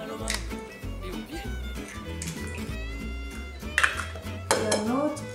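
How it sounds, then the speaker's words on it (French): Eggs go into a mixing bowl in a home kitchen: clinks and knocks of shell and utensil against the bowl, with a couple of louder taps near the end, under ongoing talk. "On va ajouter les œufs."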